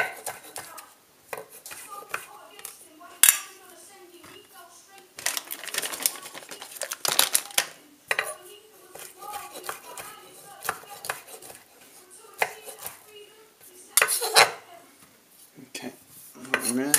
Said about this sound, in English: I'm just going to roughly chop through them.